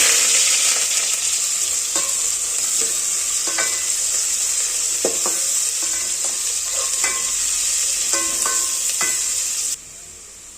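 Onion frying in hot ghee for biryani, with bay leaf, coriander and mint in the pot, sizzling loudly and steadily throughout, punctuated by scattered scraping stir clicks, before the sizzle drops away abruptly near the end.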